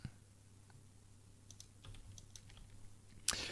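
Keys tapped on a computer keyboard while working in a 3D modeling program: a few quiet, scattered clicks over a low hum, ending in one sharper, louder keystroke near the end. No one speaks.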